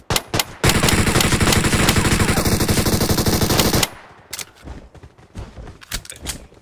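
Rapid automatic gunfire in a video game, a dense burst lasting about three seconds, loud and close, followed by scattered lighter shots and clatter.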